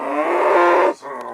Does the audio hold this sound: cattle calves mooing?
yes